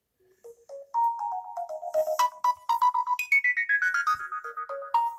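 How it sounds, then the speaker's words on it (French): A DOOGEE X70 smartphone plays its ringtone, a bright electronic melody of quick stepped notes rising and falling, loud and close with nothing else behind it. "Alors, la sonnerie."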